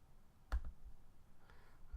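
A few faint, sharp mouse clicks come one at a time against a quiet room background.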